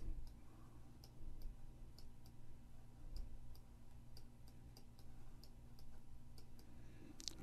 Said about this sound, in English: Just clicking over and over.